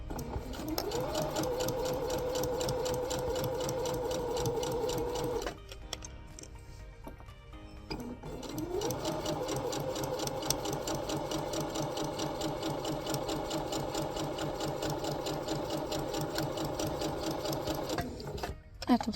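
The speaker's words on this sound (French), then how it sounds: "Et on vient piquer." A sewing machine stitches a zipper into fabric, a fast steady mechanical whirring with rhythmic needle ticking, running in two long bursts separated by a short pause, near and clear.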